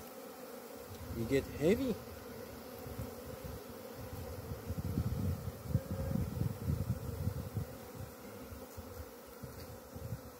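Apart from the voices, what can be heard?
honey bees buzzing around a nuke box with lemongrass oil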